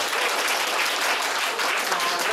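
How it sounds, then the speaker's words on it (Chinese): An audience at a philosophy talk and Q&A session applauds three speakers, sustained even clapping from a roomful of people throughout. "那我们今天还是再掌声谢谢三位讲者。"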